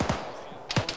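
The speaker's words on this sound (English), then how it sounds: "That sounds like PK fire from right to our east" PK machine gun fire in ArmA 3, heard from a distance off to the east: two short, sharp bursts about a second apart over a steady background hiss.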